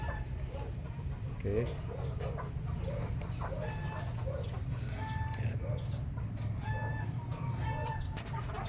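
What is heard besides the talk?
chickens clucking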